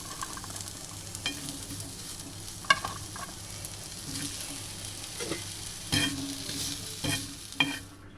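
Onion, garam masala, salt and coconut roast in a home kitchen pan, giving a soft continuous sizzle broken by occasional sharp spoon scrapes and taps against the pan, with no talk.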